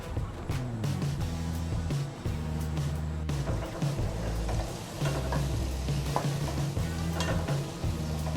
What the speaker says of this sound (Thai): แล้วก็จะซิมให้มันเดือดก่อน